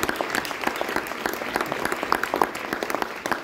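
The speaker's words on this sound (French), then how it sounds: "je propose qu'on applaudisse chaleureusement" An audience at a French literary event, with a book signing to follow, applauds warmly: dense, steady clapping from many hands throughout, with no talk over it.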